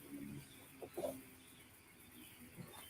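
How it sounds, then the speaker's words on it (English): Faint bird calls, clucking and chirping like fowl, come in a few short bursts near the start and once again toward the end over a quiet background. "Why do I hear birds chirping?"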